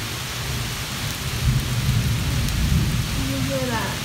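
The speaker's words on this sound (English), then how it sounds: "It is pouring and thundering out." Heavy rain pours down steadily with low, rolling thunder rumbling through it, close and full, inside an old castle with a former altar; no one speaks.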